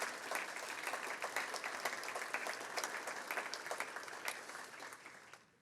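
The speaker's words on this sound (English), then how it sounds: "So a big round of applause to all of our new members." Applause from a business breakfast audience welcoming new members, a steady wash of many hands clapping at moderate distance, sustained for several seconds and tapering at the end, with no talk over it.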